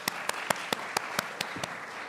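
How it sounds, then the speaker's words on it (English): Applause at a student-centered campus symposium: a handful of separate, evenly spaced claps over a steady room hiss, sounding thin and sparse rather than like a full crowd. "So round of applause."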